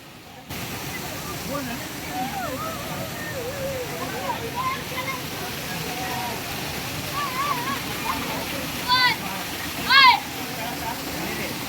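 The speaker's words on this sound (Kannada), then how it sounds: "ಜಲಪಾತದ ದೃಶ್ಯವನ್ನು ಒಂದು ಸಲ ನೋಡ್ಕೊಂಬನ್ನಿ" Kallathigiri waterfall near a temple in Chikkamagaluru, a steady broad rush of falling water with voices chattering faintly in the background and a couple of brief louder bursts near the end.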